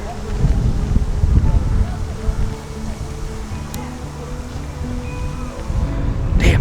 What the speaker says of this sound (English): it's a little bit breezy here, so just bear with us if there is a little bit of noise